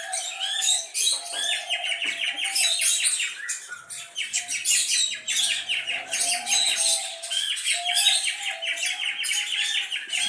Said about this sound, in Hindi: तोतों ने आके सारा खेल बिगाड़ दिया उनका।